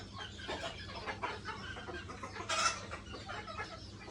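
Hens cluck softly at a distance in a farmyard, with a brief louder squawk near the middle, over a steady low background hum.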